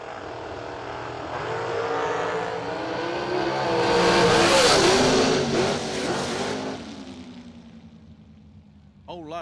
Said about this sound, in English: Whole lot of throttle whacking down there